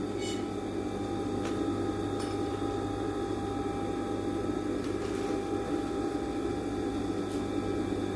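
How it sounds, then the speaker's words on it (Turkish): A sewing machine stitches a vintage dress with a steady mechanical hum and a continuous whir throughout, broken by a few faint clicks. It runs alone at moderate level, with no talking. "Ve gerdirerek makinenin altında dikişi tamamlayacağım."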